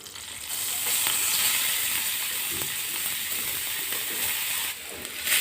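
Grated raw potato dropped into hot oil with asafoetida, a loud steady sizzle building and holding close by, with a few light clicks and a short dip near the end, no talking.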